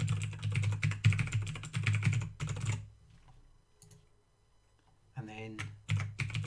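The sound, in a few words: typing an Office 365 login on a computer keyboard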